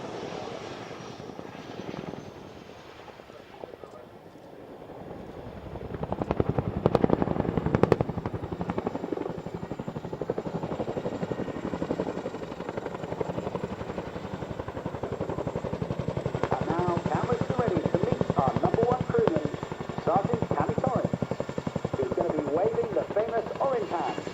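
A display helicopter manoeuvring at the Cosford Airshow, its rotor and engine noise a steady, loud roar that swells midway and holds, while a commentator talks over it throughout.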